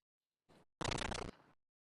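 A short burst of close, crisp crunching from chewing crunchy cereal, rapid bites in a quiet room, with a softer crunch just before.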